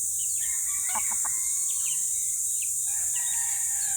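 A young rooster gives a short, thin, strained crow, with a clear tonal call near the start and a steady hiss in the background.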